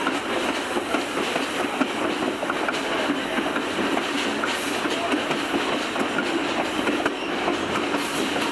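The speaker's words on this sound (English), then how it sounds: "Now the train's picking up speed again." An Adirondack Scenic Railroad train on the Thendara–Otter Lake line rumbles steadily as it picks up speed, with continuous clickety-clack of wheels on rail, heard close from aboard, with no talk.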